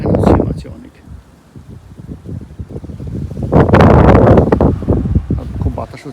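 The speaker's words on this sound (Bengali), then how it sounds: "আর খুব বাতাস হচ্ছে বাইরে।" Strong outdoor wind gusts buffet the microphone with a steady roar that swells loudly toward the middle, while a person talks over it.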